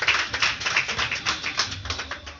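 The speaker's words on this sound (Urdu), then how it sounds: "تو زوردار تالیوں سے آپ بتا سکتے ہیں" A church congregation applauding, a dense burst of many hands clapping fairly close and loud, steady for a couple of seconds before easing off slightly.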